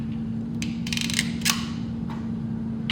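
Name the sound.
crimping an eyelet terminal onto a ground cable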